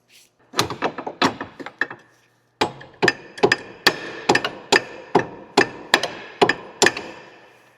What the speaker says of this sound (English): Might have to hit it with a hammer.